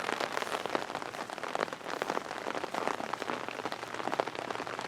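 Steady rain pattering densely on a surface, constant and close, with no voices.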